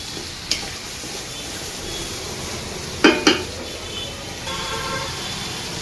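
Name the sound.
onions frying on low gas with spices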